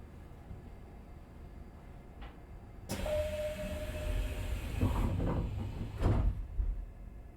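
Doors of a Nishitetsu 3000 series local train, running between Futsukaichi and Ogori with an abnormal noise, slide shut with a sudden whoosh and thud over a steady low cabin hum, followed by louder rattling bumps.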